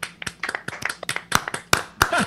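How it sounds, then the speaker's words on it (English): A small audience claps loosely and unevenly on request, separate sharp hand claps rising in strength toward the end, close and distinct with no talk over them. "I'd like to hear you applaud."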